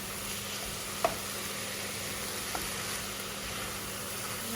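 Mushroom and broccoli stir fry sizzles steadily in a pan as it is stirred, with a couple of brief scraping clicks against the constant frying hiss.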